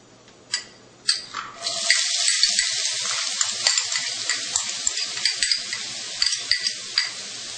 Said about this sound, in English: the oil is actually hot. We're going to go ahead and put in our onions.